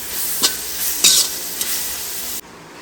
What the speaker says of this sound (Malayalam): തക്കാളിയും കറിവേപ്പിലയും കൂടെ ചേർത്ത് നന്നായിട്ട് വഴറ്റണം